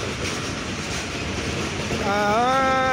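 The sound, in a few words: Nilsagar Express train at Saidpur station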